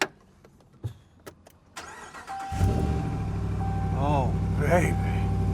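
A car engine, started using a Ryobi jump starter, cranks and catches, then settles into a steady, loud idle up close, and someone talks briefly over the running engine.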